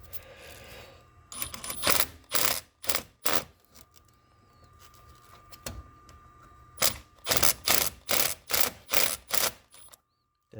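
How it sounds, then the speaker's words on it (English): On a Nissan Altima 2.5L, an impact gun works on a corroded starter nut in repeated short, rattling bursts, two clusters of quick hammering pulses separated by a quieter pause, fairly faint overall. "I'm going to try to use my impact gun."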